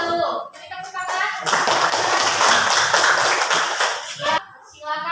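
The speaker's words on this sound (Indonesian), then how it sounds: "Beri tepuk tangan." A classroom audience at a teacher-training practice session claps after a student's presentation. A voice comes first, then a burst of clapping lasting a few seconds, fading out as talk resumes.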